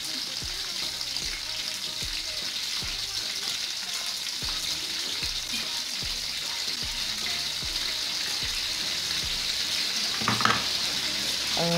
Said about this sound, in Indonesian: Setelah minyak panas, lalu kita goreng pisang dengan cara memakai alat serut.